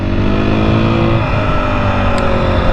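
A 2021 KTM 500 EXC-F motorcycle engine runs with its idle raised after sitting too low, giving a loud, steady, close mechanical drone throughout without talk.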